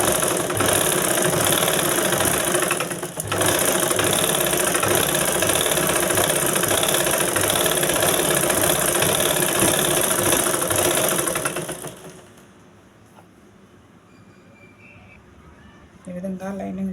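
A sewing machine stitches lining onto fabric in a loud, steady whirring run for about twelve seconds, then stops, and a short burst starts again at the end.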